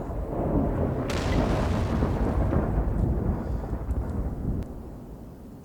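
A SU-14-2 artillery gun fires in World of Tanks, a single heavy boom that rolls into a long, loud rumbling tail lasting several seconds before fading, with no talk over it.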